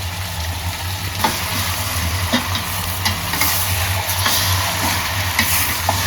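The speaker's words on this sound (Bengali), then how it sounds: "সবগুলো মুরগি দিয়ে দিব এখানে, তারপর আস্তে করে ভাজবো।" Chicken pieces fry in a pot for a shortcut morog polao, giving a steady, loud sizzle with occasional scraping stirs and no voices.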